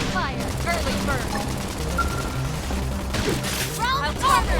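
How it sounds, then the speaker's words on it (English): Gunfire in the Xenoblade Chronicles X video game, rapid bursts of shots mixed with game effects and battle voice callouts, played continuously at a steady level. "Try toppling it with gunfire!"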